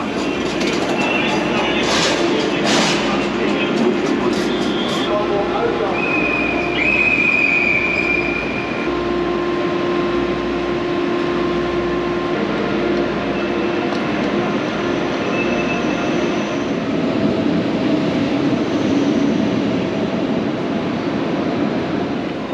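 Steady rumbling rush of a DB ICE high-speed train running between Hamburg and Leipzig, heard from inside the carriage, with occasional faint squeals and clicks over the continuous loud wheel and track drone.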